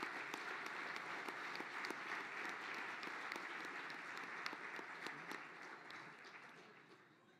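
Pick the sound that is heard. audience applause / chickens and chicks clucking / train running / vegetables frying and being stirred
audience applause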